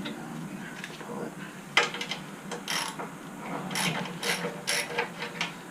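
A ratchet wrench removes the long gas tank screw on a Baja Warrior 196cc mini bike. It makes close, irregular bursts of quick metallic clicking, with some handling noise in between.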